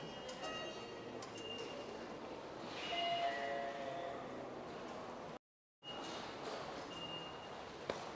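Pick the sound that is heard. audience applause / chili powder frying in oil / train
train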